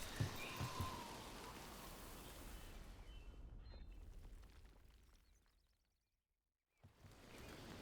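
Steady rain in the video game Dragon Age: The Veilguard, a soft, even hiss with no voices, fading away to near silence before returning at the end.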